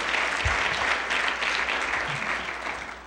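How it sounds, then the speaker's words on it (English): Audience at a conference on opportunity finance giving a round of applause for event sponsors, a dense, sustained patter of many hands clapping that gradually thins toward the end. "please give them a round of applause as well"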